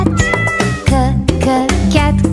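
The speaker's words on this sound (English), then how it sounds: "C is for cat" A cat meows repeatedly, several loud, close, drawn-out cries in quick succession with no voices over them.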